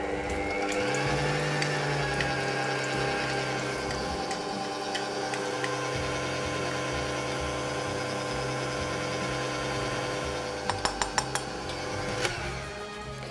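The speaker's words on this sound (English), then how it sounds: "using an electric whisk, we're going to mix in the cocoa and icing sugar mixture slowly but surely" An electric whisk mixing cocoa and icing sugar for a yule log, a continuous mechanical whirring hum with shifting pitch, close and steady, broken near the end by a few sharp clicks and knocks against the bowl.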